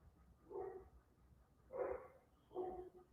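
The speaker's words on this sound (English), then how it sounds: "What the fuck are my dogs barking?" Three separate barks from a dog, somewhat distant and fairly faint, spaced about a second apart in an otherwise quiet garage setting.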